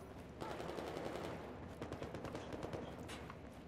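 Rapid automatic gunfire crackles in Battlefield 4, the bursts dense and continuous over a few seconds, fairly loud and alone with no talk.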